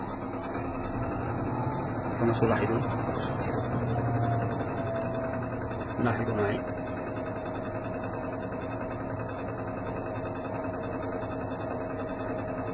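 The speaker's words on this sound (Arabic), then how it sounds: "ثم أضغط مرة أخرى فيقوم بدورة كبيرة المحرك" An LG washing machine motor hums and whirs steadily at low volume during a reprogramming cycle, with two brief clunks partway through and someone speaking quietly over it.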